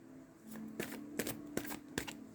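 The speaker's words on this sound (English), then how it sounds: "But I'm going to cut the deck." A deck of oracle cards being cut and handled up close, giving a few quick soft riffling snaps in an irregular rhythm over a low steady hum, quiet and with no talking.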